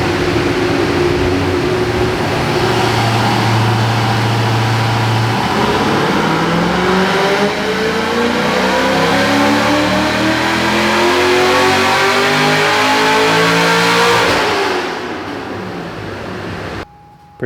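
A Z06 Corvette's engine revs hard on a dyno, rising in pitch through long sweeping pulls, loud and close, then dropping away near the end.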